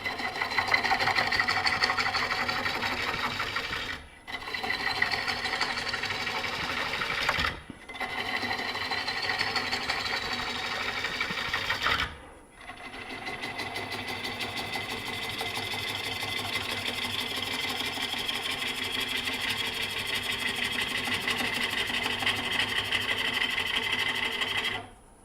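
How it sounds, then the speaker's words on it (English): Wood lathe spinning an unbalanced bowl blank at low speed, a loud, steady mechanical drone with a rhythmic thumping pulse, broken by three brief drops where it cuts out before continuing. "We'll be able to kick the speed up later when we get this balanced so this lathe doesn't run across the floor."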